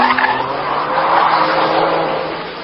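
Ferrari 612 Scaglietti V12 grand tourer with its tires squealing loudly as the tail slides out, a sustained screech with engine noise underneath and no voices.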